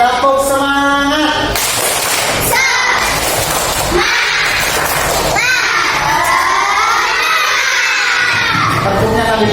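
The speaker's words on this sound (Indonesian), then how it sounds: "Bapak Ibu kita semangatnya, tepuk semangat." A school class performs the tepuk semangat clapping chant, with children shouting and chanting in unison and rhythmic claps and thumps, loud and close in a crowded classroom.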